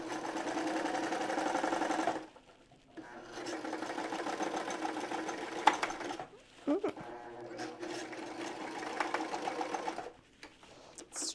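A sewing machine stitches together layers of overlocked fabric for a pair of shorts: fast, steady whirring runs that stop, start again and break into shorter bursts, close by and moderately quiet.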